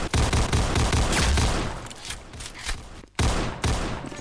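Dense gunfire in a Roblox shooter game: rapid, loud bursts of shots in quick succession, briefly breaking off near the end before firing resumes.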